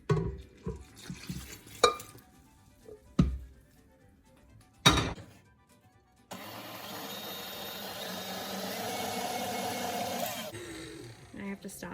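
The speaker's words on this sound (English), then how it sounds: "I'm going to add it to the flour mixture and beat it for 30 seconds on high and scrape the edges" A stand mixer beats warm milk mixture into flour for beignet dough, running as a steady loud whir for about four seconds after a few scattered knocks and thuds of bowl and utensils.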